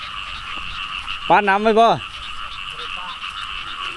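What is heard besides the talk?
frogs croaking in rice field after rain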